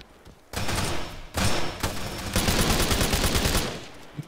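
Loud bursts of rapid automatic gunfire in a video game capture-the-flag match, several long volleys broken by brief gaps, close and dominant with no talk over them.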